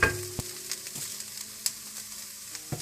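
Chicken frying in a pan for an iftar dish, a steady close sizzle broken by a few sharp clicks and scrapes of a utensil against the pan.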